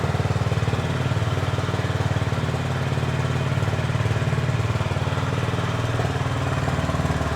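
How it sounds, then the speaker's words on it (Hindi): A Honda H'ness CB350 motorcycle engine idles steadily and close by, its exhaust note a continuous low, even throb with no speech over it. "आइडियल कंडीशन का इंजन साउंड"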